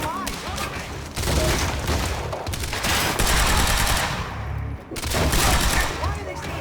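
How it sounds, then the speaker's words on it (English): Gunfire from the video game Quantum Break, with rapid bursts of automatic shots and heavy booms in loud, repeated volleys and a short lull between them, under game dialogue. "Why are they still shooting?"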